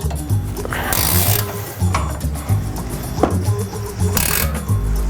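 A ratchet is used to tighten a steering angle kit onto a BMW control arm, giving a close, rapid mechanical clicking with repeated strokes and brief louder bursts between them.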